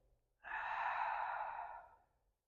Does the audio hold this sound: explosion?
no